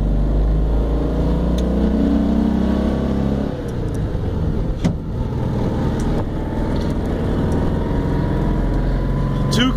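BMW Isetta 600 microcar fitted with a fuel-injected BMW R1150 motorcycle engine, idling loudly and close with a steady low rumble that shifts slightly partway through, while someone talks faintly over it.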